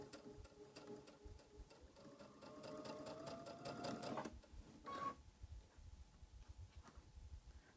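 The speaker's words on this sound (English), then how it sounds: "I'm just going to sew this one together, chain stitch them all." A sewing machine chain-stitches plain white fabric pieces together for a floral wall hanging, its needle running in a fast steady rhythm for about four seconds, then a short second burst, with quieter handling noise around it.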